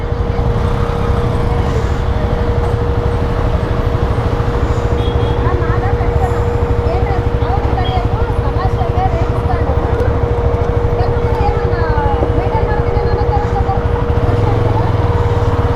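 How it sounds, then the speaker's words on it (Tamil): Dense Bangalore road traffic surrounds a Yezdi Scrambler motorcycle, a steady loud wash of engines and tyre noise with a constant droning tone, continuous throughout without clear individual passes. "பெங்களூர் டிராஃபிக் அப்படி தான் நண்பா"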